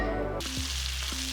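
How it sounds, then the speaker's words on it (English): Almond flour sprinkled into hot frying oil, a gluten-free chicken parm in progress, gives a soft, crackling sizzle with a few small pops, fairly quiet and close. "I'm gonna sprinkle a little bit of almond flour in there, and you see it sizzling"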